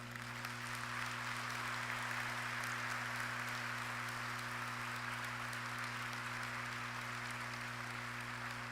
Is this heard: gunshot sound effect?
no